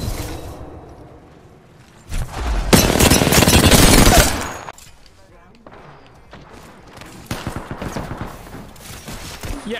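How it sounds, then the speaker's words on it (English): A dense volley of rapid gunfire in the game Apex Legends roars for about a second and a half, bracketed by quieter shots, movement sounds and bursts of speech. "Getting shot at."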